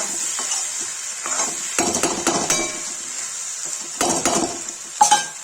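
Okra mixed with masala is stirred in a pan, a spoon scraping and knocking against the metal in irregular bursts over a bright steady sizzle, close and clear with no talking.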